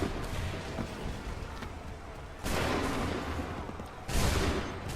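Soldiers open fire in a battle, giving dense, continuous volleys of musket-like gunfire with loud booming bursts near the middle and end.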